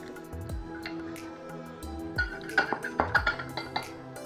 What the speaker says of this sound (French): On casse les 3 œufs dans un saladier.